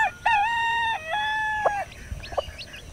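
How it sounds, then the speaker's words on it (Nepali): A rooster crows once nearby, a long, loud, wavering call lasting nearly two seconds, followed by a few softer clucks. "जेठान यो भाले हाम्रै हो कि छिमेकीको हो?"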